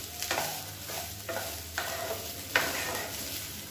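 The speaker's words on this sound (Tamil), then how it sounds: "இப்போ வந்து சாதத்தோட எல்லாத்தையும் நல்லா புரட்டி விட்டுக்கலாம்." Egg rice being stirred and turned in a pan over a medium flame, with a soft steady sizzle and repeated scraping strokes at close range, no voices.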